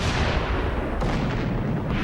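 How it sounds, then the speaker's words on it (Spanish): Naval guns of the German cruiser Emden pounding the harbour of Madras in 1914, heard as a continuous dense roar of heavy gunfire and booms that fills the short stretch with no pauses. "El Emden se acerca aún más y luego dispara 125 cañonazos."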